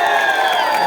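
Dense crowd cheering and clapping at a winter fair where singers perform, a loud steady roar of voices over a short burst.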